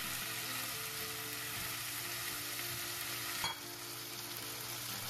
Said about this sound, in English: Add the rice wine to the edge of the pan so the hot pan can bring out the aroma of the